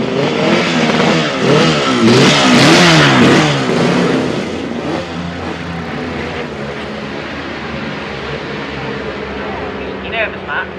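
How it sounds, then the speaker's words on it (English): Noisy motorbike revving hard near a prostock racing club, the engine note rising and falling in a loud wavering whine that settles into a steady drone, with people talking over it. "Let's wait for this motorbike though, Carl. It's that same noisy one,"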